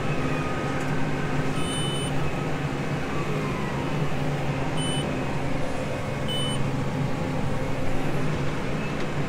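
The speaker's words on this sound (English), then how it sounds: "a boundary beeper, so it's just basically telling me that I'm going to drive, I might have to drive to the boundary" Tractor boundary beeper sounding in the cab while direct drilling beans in a small field, short high beeps repeating at intervals over a steady loud engine drone.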